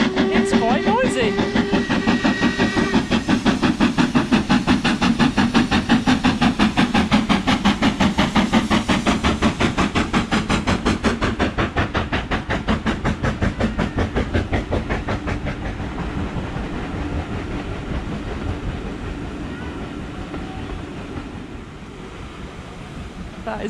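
A loud, continuous rumbling rush of a seven-carriage steam train passing over the Glenfinnan Viaduct, with steady rhythmic clatter of wheels that gradually fades slightly toward the end.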